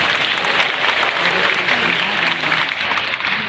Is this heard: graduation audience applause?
yes